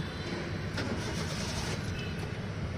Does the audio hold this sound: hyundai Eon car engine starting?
yes